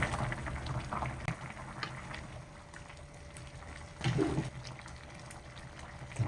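Tinola, a chicken soup with native chicken and papaya, simmering in a covered pot, a soft, steady bubbling with gentle gurgles and a brief louder burble partway through, no talk.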